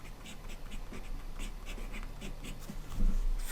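Pen or stylus strokes writing out a Riemann sum formula during a math screencast, a run of soft scratchy taps and short strokes, close and fairly quiet, with no talking.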